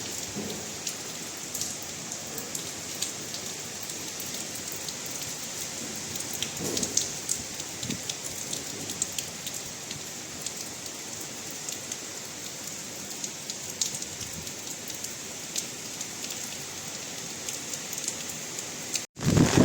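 Heavy rain pours steadily as Cyclone Dana hits Balasore, a dense continuous hiss of drops on surfaces with occasional louder spatters, close and loud throughout.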